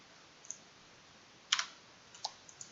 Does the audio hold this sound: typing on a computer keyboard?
yes